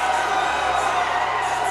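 A boxing crowd on its feet roars and cheers in a dense, continuous wash after the towel is thrown in, steady and loud across the whole moment with no single voice standing out.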